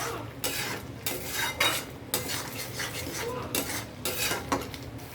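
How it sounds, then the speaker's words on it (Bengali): A metal spoon scrapes and clatters against a pan as spices and sugar are stirred and sautéed, with repeated close, brisk strokes and faint sizzling underneath, no voices. "দিয়ে আমি ভালোভাবে নেড়ে আর একটু মশলার সাথে কষিয়ে নেব"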